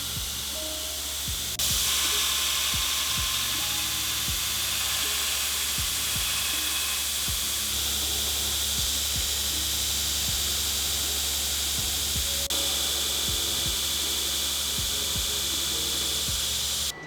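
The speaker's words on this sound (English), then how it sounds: "For this I'm using a 60 grit belt and grinding out the rest of the profile." A belt grinder running a 60 grit belt grinds the profile of a bushcraft knife blade, giving a loud, steady abrasive hiss with a motor hum underneath that lasts throughout, with no break.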